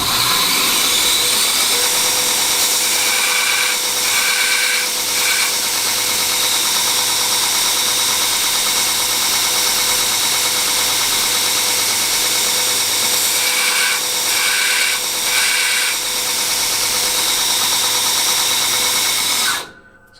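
A bench grinder sharpens a drill bit freehand, a loud continuous high whine with brief pitch shifts as the bit is pressed to the wheel, running alone until it cuts off at the end.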